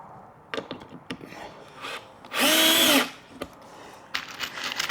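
A power drill briefly drives a screw into the wood of a fold-down workbench leaf, one loud whirring burst of about half a second amid quieter scraping and handling noises.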